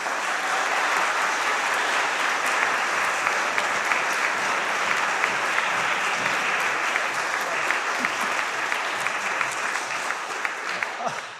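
A church audience at St. Brigid's applauds warmly in thanks to the owner of a grand piano, sustained dense clapping lasting over ten seconds, with scattered sharper claps standing out near the end.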